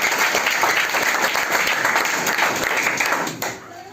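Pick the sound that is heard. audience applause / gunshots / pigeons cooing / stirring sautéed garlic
audience applause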